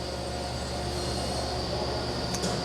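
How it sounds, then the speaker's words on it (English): A steady, droning woodworking-machinery hum with a grinding, whining edge, heard from a neighboring wood workshop through a wall, continuous throughout and without voices. "There's a wood workshop next door, so that's what that sound is."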